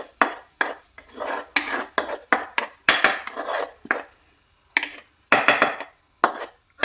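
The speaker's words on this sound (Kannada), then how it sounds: "ಇದನ್ನು ಎಲ್ಲ ನೀಟಾಗಿ ಸೇರಿಸ್ಕೊಳ್ಳಿ" Ingredients stirred and mixed in a metal pot with a spoon, loud close scrapes and clanks repeating in quick irregular strokes with brief pauses between.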